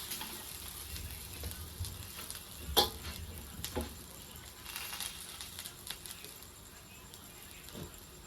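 Soybean and potato thalipeeth frying in oil on a griddle, a close crackling sizzle throughout with scattered ticks and one sharper clack, sustained and fairly quiet.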